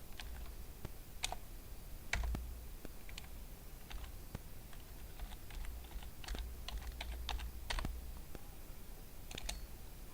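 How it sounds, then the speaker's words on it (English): Someone types a word on a computer keyboard, producing a quiet, uneven stream of individual key clicks with brief pauses, close and clear with no talk. "I'm typing one word"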